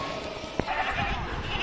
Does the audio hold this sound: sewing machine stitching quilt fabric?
no